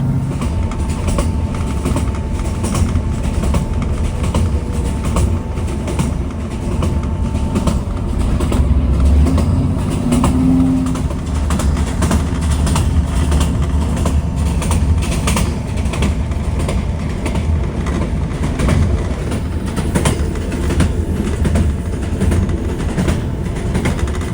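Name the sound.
train running on rails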